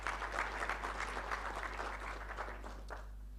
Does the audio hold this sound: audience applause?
yes